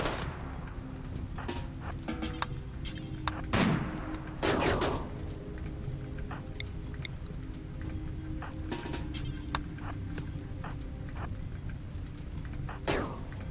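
Gunfire from colonist shooters and a turret in RimWorld, heard as scattered sharp shots and short bursts at low level with a few louder impacts, over a quiet background.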